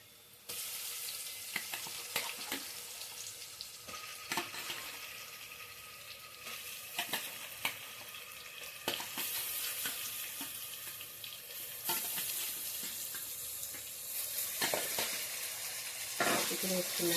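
Chicken goes into a pan of frying onions for a pulao and keeps up a steady moderate sizzle. Stirring scrapes and clatters break through it at intervals.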